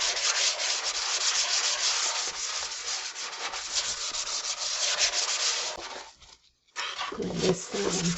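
Bar Keepers Friend cleanser scrubbed hard across a kitchen sink, a steady close rasping rub lasting several seconds before breaking off briefly, then a few lighter scrubbing strokes.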